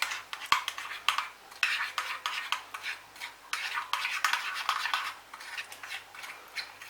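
A spoon stirs a pot of tomato meat sauce with bay leaf, giving steady scraping and clinking strokes up close, with a faint low hum underneath and no talking.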